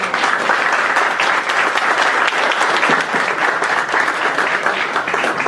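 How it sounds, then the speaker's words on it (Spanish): A lecture audience at a university white-collar crime conference welcomes the speakers with applause: loud, dense, steady clapping from many hands that continues without pause throughout. "demos un aplauso"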